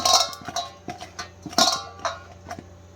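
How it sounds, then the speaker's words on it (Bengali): Jackfruit pieces tossed by hand with salt and turmeric in a metal bowl, giving scattered light clinks and soft scraping knocks at an irregular pace, close and fairly quiet. "আমি এখন এত সময় কাঁঠালে অল্প লবণ আর অল্প হলুদ দিয়ে একটু মাখিয়ে"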